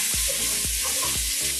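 Tasso ham caramelizing in a stainless steel pan for Louisiana red beans and rice, a loud continuous sizzle and crackle, with a few stirring scrapes and pan knocks at regular intervals.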